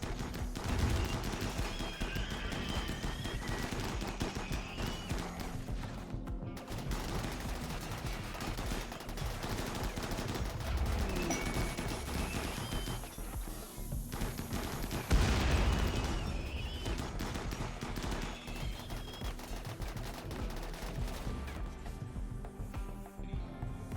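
Automated turrets fire bursts against a mechanoid breach in the RimWorld video game, rapid gunfire crackling on and off over a busy, dense game soundscape for the whole stretch.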